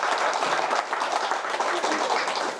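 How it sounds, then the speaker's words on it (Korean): Audience applause at a Buddhist dharma talk, a dense, steady wash of many hands clapping together, loud and sustained from start to finish. "박수 좀요."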